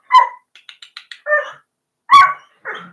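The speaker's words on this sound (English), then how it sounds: "my dog's about to bark, so I do apologize if she does that." A small female dog gives several sharp barks and yips, loud and close, with short gaps between bursts and a run of quicker, quieter yaps in the middle.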